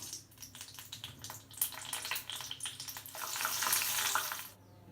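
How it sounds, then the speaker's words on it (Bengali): Green chilli frying lightly in a pan gives a steady broadband sizzle with scraping stir strokes, swelling louder near the end before easing off, with no voices present. "একটু সবুজ লঙ্কা আছে, এবার এটাকেও হালকা ফ্রাই করে নেব।"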